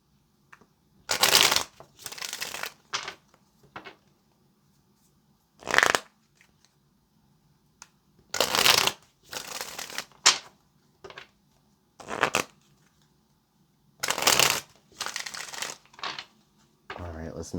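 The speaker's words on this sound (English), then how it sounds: "let's make this our last shuffle" Tarot cards shuffled in repeated bursts of riffling and crisp card snaps, separated by short pauses, close and fairly loud in a quiet room, with a voice speaking at times between the shuffles.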